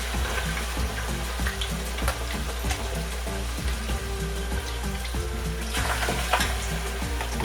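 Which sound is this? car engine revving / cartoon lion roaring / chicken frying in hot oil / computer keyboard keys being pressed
chicken frying in hot oil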